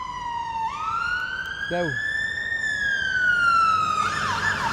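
An emergency vehicle siren wails on a street near a burial ground in Newcastle, its pitch rising and falling in long sweeps as it passes fairly close, while a person speaks briefly over it.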